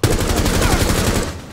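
Close, loud automatic gunfire from Rainbow Six Siege ranked play rattles out in a rapid continuous burst of shots lasting over a second before cutting off, with no voices.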